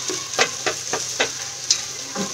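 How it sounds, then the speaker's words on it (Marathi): Masala spice paste sizzling and frying with onions in a pan for a Konkan-style chicken dish, a steady crackle with several sharp spits and stirring scrapes at a close, moderate level. "आता ह्यामध्ये मी टाकणार आहे जो आपण हा मसाला तयार करून ठेवला होता"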